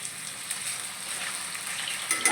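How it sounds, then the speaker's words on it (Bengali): Potatoes and carrots sizzle in hot oil in a pan for a vegetable biryani, a steady soft crackle with a few brighter spits near the end. "তেল গরম হয়ে এসছে, আলু একবার আমি আলু আর গাজরটা করবো।"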